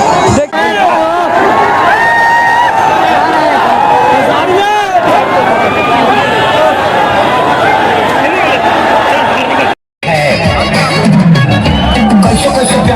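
Large crowd of fans at a Khesari Lal Yadav event, a dense continuous hubbub of chatter and shouting with occasional cheers, loud and close, with a brief dropout near the end.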